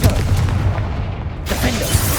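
A Confringo spell blast in Hogwarts Legacy, a heavy booming burst with rumbling low end, short and punchy, over continuous game ambience.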